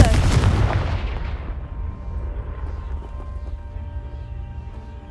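A single loud Confringo blast spell explosion in Hogwarts Legacy, a sharp booming burst that rolls into a long rumbling decay with debris and game ambience trailing behind.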